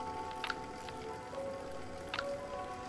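Faint wet squishing with a couple of soft splashy drips as very cold water is worked into thick pizza dough with whole-wheat flour, against a quiet background.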